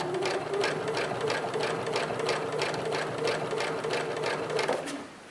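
A sewing machine quilts fabric along a ruler, its needle hammering in a fast, even rhythm close by, a steady mechanical chatter that runs throughout and stops just before the end.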